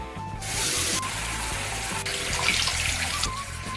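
A tap runs at a sink as hands are washed with soap, a loud, steady splash of flowing water close by, broken by small shifts and interruptions as the hands move under the stream.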